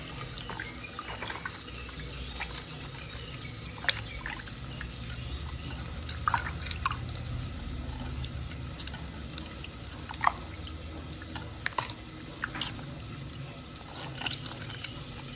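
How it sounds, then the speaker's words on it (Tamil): Tomato squeezed by hand into tamarind water for a fish curry makes soft, quiet squishing and dripping sounds, irregular wet squelches over a low background. "தக்காளி புளியிலே கரைச்சிக்கிறேன்."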